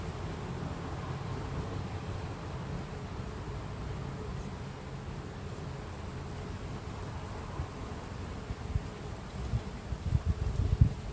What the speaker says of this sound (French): On chasse les petites abeilles.